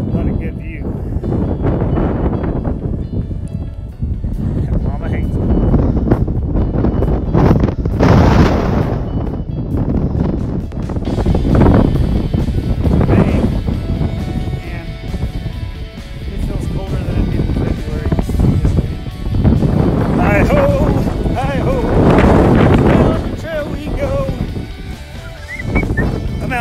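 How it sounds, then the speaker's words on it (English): Strong gusts of wind buffet the microphone outdoors, rising and falling in loud rumbling bursts throughout. "little windy out here today."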